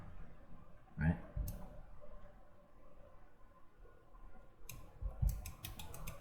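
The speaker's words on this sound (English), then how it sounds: "Now I'm gonna go and left click on this edge, drag and snap it, go down, click" Computer mouse clicks during Blender 3D modeling, a few sharp isolated clicks spaced through the clip, faint and close, with a quiet voice murmuring underneath.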